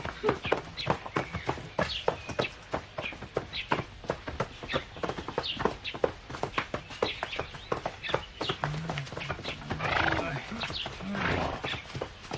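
Horse hooves clip-clop steadily at close range, with a whinny partway through, over a busy outdoor background.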